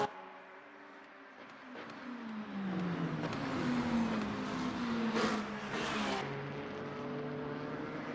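Race cars lapping the Fuji circuit in the video game Le Mans Ultimate, engines rising and falling in pitch as several cars pass and shift gears, steady and fairly loud with no talk.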